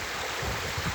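Water tumbles continuously at Huai Chan waterfall, Khun Han district, Sisaket province, where the flow is fairly light, making a brief, even, close wash of noise with no voices.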